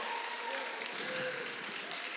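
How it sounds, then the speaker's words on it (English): Congregation in a church service clapping for Jesus, a dense, steady wash of hand claps filling the room at moderate level with no one speaking over it. "let's just give Jesus a hand clap for that"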